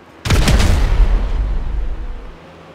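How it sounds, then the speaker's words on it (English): A loud explosive boom from a GTA 5 heist mission bursts out, followed by a crackling, rumbling decay that fades over a couple of seconds. "An explosion will tend to do that."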